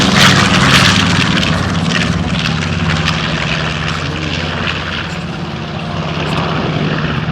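A T-34 propeller airplane roars past close by, a loud, rough engine drone that swells and then holds steady.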